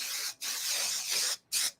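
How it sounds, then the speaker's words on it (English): Super 77 spray adhesive hisses onto a board in two close bursts, a long spray followed by a short one after a brief pause. "So then I just spray my board down"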